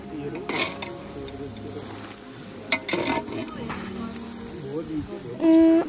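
Goat meat bhutuwa cooks in a pan while a utensil stirs it. Spoon clinks and scraping sit over a low sizzle, and a voice is heard through much of it.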